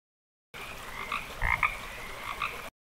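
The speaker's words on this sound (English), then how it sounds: "Frog, carnivorous, consuming insects, worms, and other small invertebrates." A frog croaks in a single continuous raspy call lasting about two seconds, clear and alone with silence before and after.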